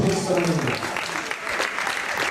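Crowd applause at an American football game between Seahawks Gdynia and Angels Toruń, a dense steady clapping from the stands with voices mixed in throughout.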